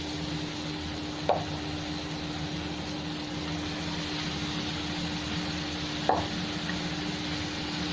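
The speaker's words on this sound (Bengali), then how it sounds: "ভালো করে নেড়ে দিয়ে তারপরে আমি ঢাকা দেবো," Pieces of raw pumpkin cook in a pan with fried spices, tomato and onion, a steady quiet sizzle with two sharp scrapes of a spoon stirring, and no speech.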